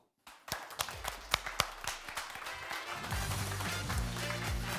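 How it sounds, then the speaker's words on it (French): Audience applause greeting a stuntman guest on a French television-style stunt show, starting with scattered separate claps that build into steady, dense clapping filling the room. "Merci d'accueillir avec vos applaudissements les plus chaleureux Monsieur Stéphane Margot."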